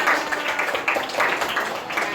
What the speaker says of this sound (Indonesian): tepuk tangan buat Arsya